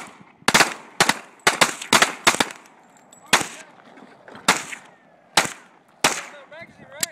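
Gun fired rapidly at a piece of wood: a string of sharp, loud cracks, several in quick bursts and then more spaced shots, with voices talking between them.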